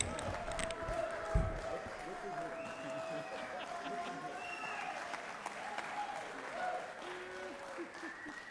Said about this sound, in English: Let's give Jeff Mullis a round of applause